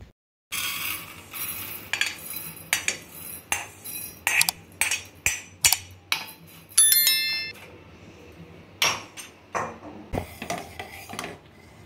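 Fried vermicelli scraped and tipped from a pan onto a plate, a string of sharp metallic clinks and scrapes of utensil against cookware, close and distinct, with brief pauses between strokes and no talking.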